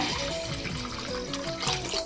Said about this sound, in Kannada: ನೋಡಿ, ಇದಕ್ಕೆ ಎಷ್ಟು ನಾನು ನೀರು ಹಾಕ್ತಾ ಇದ್ದೀನಿ ಅಂತ